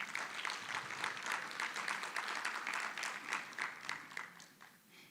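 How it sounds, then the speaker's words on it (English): Sustained audience applause fills a conference hall, dense steady clapping from a large crowd lasting several seconds before slowly thinning toward the end. "Let's give them a good round of applause"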